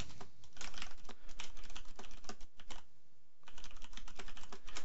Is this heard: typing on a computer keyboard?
yes